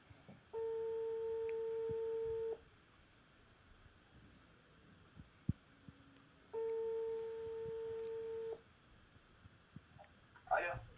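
Telephone ringback tone heard during an outgoing call: two long, steady, flat beeps about two seconds each, separated by a pause of roughly four seconds, fairly quiet against a low room hiss with a few small clicks.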